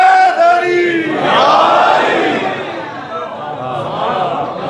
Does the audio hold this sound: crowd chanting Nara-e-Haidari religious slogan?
yes